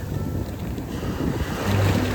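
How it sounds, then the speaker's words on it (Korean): Steady ocean surf washing onto a Hawaiian beach in early morning, a continuous broadband rush of waves with wind buffeting the microphone, no voices. "발을 적시는 파도는 부드럽고 시원했습니다."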